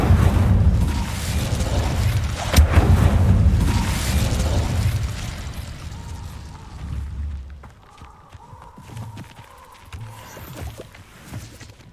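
A fire spell cast in the Hogwarts Legacy video game erupts as a loud, roaring whoosh with deep booming rumbles that last several seconds, then fade into quieter, scattered ambient crackles and thuds.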